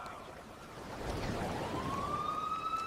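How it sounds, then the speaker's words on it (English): Police sirens wail in the distance as a long rising and falling tone over a dense backdrop of street noise and music. "Police sirens in the distance."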